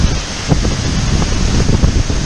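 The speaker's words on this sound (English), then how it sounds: "I'm getting the waterfall, man." Rainbow Falls on the John Muir Trail roars as a steady, loud wash of falling water with broadband rushing noise throughout, mixed with some wind buffeting on the microphone.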